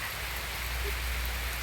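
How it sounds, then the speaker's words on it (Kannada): Steady rain falls outdoors in a village, a dense, even hiss of drops on surfaces that fills the whole moment at moderate loudness with no voices. "ಮಳೆ ಬರ್ತಿದೆ."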